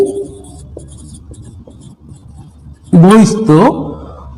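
Chalk or marker writing on a board during a Bengali geometry lesson: soft, irregular scratchy strokes over about three seconds, then a teacher's voice speaks loudly near the end.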